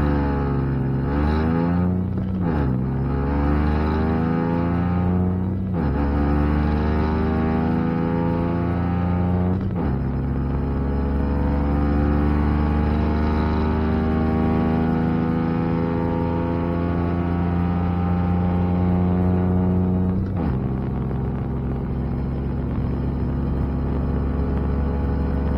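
A Honda Insight fitted with a supercharged Kubota diesel engine accelerates hard from a standstill to 60 mph, a loud droning engine note rising steadily in pitch through several gear changes, with the engine briefly dropping and climbing again at each shift.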